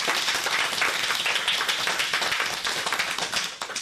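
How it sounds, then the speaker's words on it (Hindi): A crowd breaks into loud, dense applause, many hands clapping steadily before it begins to taper off. "जोरदार तालियां"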